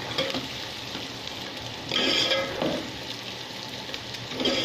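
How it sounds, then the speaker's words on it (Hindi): Sliced onions sizzle and fry in hot oil with cumin seeds in a home kitchen pan, a steady hissing crackle with a few louder bursts as they are stirred. "सबसे पहले मैंने ऑयल गर्म किया था, उसके बाद मैंने थोड़ा सा जीरा डालने के बाद प्याज डाल दी और अब ब्राउन हो रही है"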